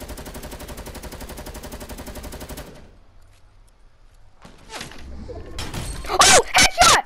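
Gunfire in the video game Fortnite: a sustained rapid burst of automatic shots runs for a few seconds, then after a lull several loud, sharp shots crack close up.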